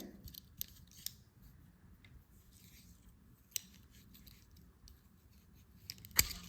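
Scissors snip through yarn while a crochet Christmas ornament hanger is made, giving a few sharp, quiet clicks spread across a hushed room, the last one loudest.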